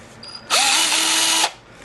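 A Durabuilt 18-volt cordless drill whirs up sharply, runs steadily at high speed for about a second, then winds down; loud and close, with no talk.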